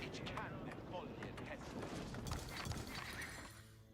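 Horses in a real-time strategy game battle clatter with hooves and whinnies over a busy mix of clashing combat effects, loud and continuous, with a commentator's voice partly over it.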